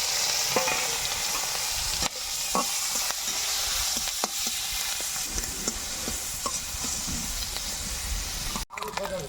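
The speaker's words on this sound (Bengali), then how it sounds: "মাছ ভাজা হয়ে গেছে, এবার তুলে নেব।" Fish rubbed with turmeric and salt fries in hot oil in a pan, a steady close sizzle and hiss with scattered pops and stirring clicks that continue throughout and dip briefly near the end.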